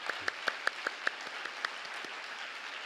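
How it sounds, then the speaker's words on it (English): Audience applause for a keynote speaker at a world congress. Quiet, fairly distant clapping with a few crisp hand claps standing out in an even rhythm early on, then thinning into a softer patter. "let's give a round of applause."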